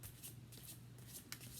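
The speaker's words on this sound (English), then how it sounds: "I give up trying to shuffle a deck of cards." A deck of cards being shuffled, faint repeated papery riffling bursts in an uneven rhythm, quiet and close with a steady low hum underneath.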